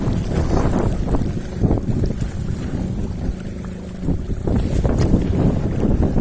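Strong wind buffets the microphone in steady, loud rumbling gusts beside water during an ultralight fishing outing, with a boat-like low roar and no talking.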